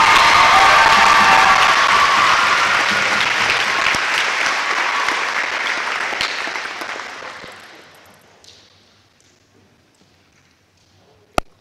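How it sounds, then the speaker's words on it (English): A school assembly audience applauds loudly after a performance, the clapping slowly thinning and fading out, followed by a single sharp knock near the end. "Let's give Charlotte one more round of applause"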